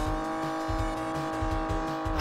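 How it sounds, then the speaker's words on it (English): Racing car engine in the Chase HQ arcade game, driving a Lambo. A sharp gear-change bang cuts through a steady, loud electronic engine drone, with no voice. "I love that gear change noise though. It proper sounds like a friggin' like shotgun"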